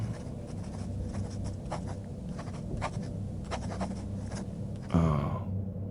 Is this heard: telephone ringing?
no